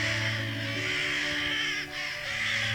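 Carrion crows chasing a kestrel give a dense, continuous chorus of harsh caws, loud and close, with a brief dip partway through.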